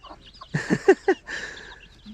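Baby turkey chicks and chickens on a snowy farm give a short run of clucks and chirpy calls, close and fairly loud, a few quick notes over about two seconds.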